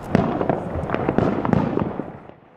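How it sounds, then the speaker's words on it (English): Fireworks and firecrackers go off all around outdoors at night, a loud, dense run of overlapping bangs and crackles that fades toward the end, with no talking. "Of course, it was fireworks everywhere."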